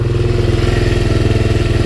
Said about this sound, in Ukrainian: вже двигун прогрівся гарно, хвилину вже 10 на холостому ходу